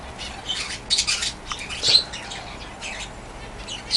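Pet finches fluttering and chirping while eating egg food, with short bursts of wing flaps and small high calls at close range.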